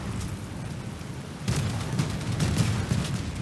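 Rapid gunfire in an online shooter game runs through the whole stretch, a dense crackle of shots and impacts that grows louder and busier halfway through.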